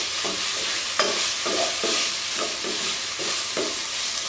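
Chicken pieces with tikka-style spices being stir-fried in a pan on a stovetop: a steady sizzle with repeated scraping strokes of a spatula every half second or so, close and fairly loud, no talking.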